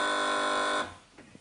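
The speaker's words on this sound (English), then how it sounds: "Fingers on buzzers, teams." A quiz show contestant buzzer gives one loud, sustained electronic tone that holds steady for nearly a second and then cuts off, leaving quiet studio room noise.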